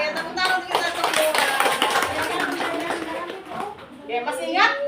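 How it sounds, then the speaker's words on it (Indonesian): Children and adults at an Indonesian kindergarten gathering clap together in a dense burst of applause lasting several seconds, then it thins out into scattered claps and voices. "Tepuk tangan untuk kita semua."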